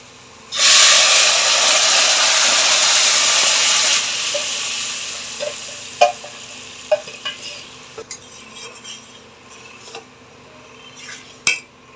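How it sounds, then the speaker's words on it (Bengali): Boiled dal is tipped into a hot pan while cooking dal with jackfruit seeds: a loud broadband sizzling hiss bursts in and holds steady for about three seconds, then fades into softer bubbling with a few sharp utensil clinks. "ডালটা ঢেলে দেবো সিদ্ধ করে রাখা ডালটা"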